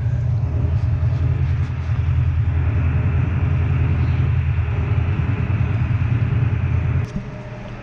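A Harley Davidson Iron motorcycle engine on a dyno pull, giving a loud, steady, deep low rumble that holds for about seven seconds and then cuts off abruptly.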